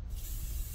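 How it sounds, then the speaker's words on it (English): A short, steady hiss of adhesive spray from an aerosol can onto a model railroad tree, fairly quiet and close, with no voices. "I'll just spray the tree with adhesive."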